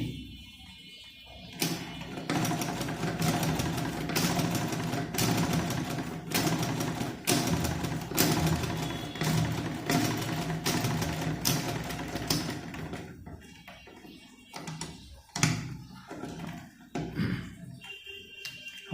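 A sewing machine runs test stitches on fabric with a steady, close mechanical whir and rapid clatter that continues for most of the stretch, then slows to a few separate knocks near the end.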